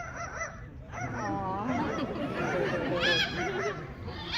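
A parrot imitates a dog, giving a run of raspy, bark-like yelps and honks, close and fairly loud.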